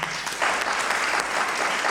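Loud, dense applause from a congregation at a Christmas church service, steady clapping throughout a brief burst.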